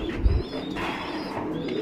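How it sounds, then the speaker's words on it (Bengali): Racing pigeons coo close by in a low, soft, rounded call that fills a brief moment, with a slight bump of sound near the start. "এই জায়গায় একটা জোড়া কবুতর"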